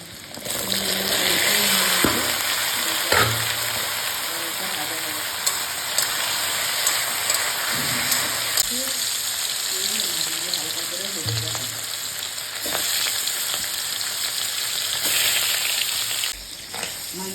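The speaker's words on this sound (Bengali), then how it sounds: "এদিকে মাছ ভাজা হবে সেজন্য কড়াই তেল দিয়ে দিচ্ছি" Fish fries in hot oil in a kadai, a steady close sizzle with occasional clinks and stirring knocks running throughout, and faint voices now and then in the background.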